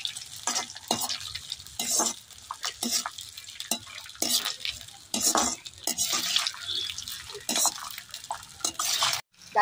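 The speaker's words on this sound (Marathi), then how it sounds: "आता काजू तळून घ्यायचे गोड भातात टाकण्यासाठी" Cashews frying in ghee in a pan for village-style sweet coconut rice, with bursts of sizzling, spoon stirring and scraping against the metal pan, close up.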